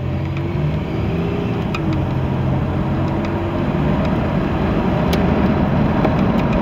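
A 1985 Buick Regal T-Type with a turbocharged engine pulls away at about one-third throttle, its steady low engine drone and road rumble holding loud and close throughout with no talking.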